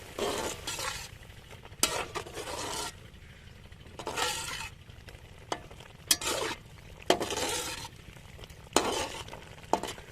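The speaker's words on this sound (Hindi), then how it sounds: "मसाले को मिक्स कर लेंगे।" Chicken tossed with tikka boti masala spices in a hot pan, producing repeated bursts of sizzling and scraping stirs with metallic clinks of the utensil against the pot, close and alone.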